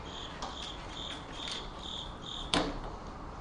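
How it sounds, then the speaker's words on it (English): A cricket chirping indoors, repeating in short regular pulses throughout, fairly close, with a sharp knock partway through and no talking. "Is there a cricket in here, or is that a phone?"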